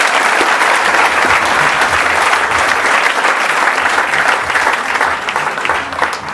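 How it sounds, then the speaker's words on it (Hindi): Loud, sustained applause from a lecture audience, dense clapping that runs steadily throughout and eases slightly toward the end. "जोरदार तालियां बजाओ"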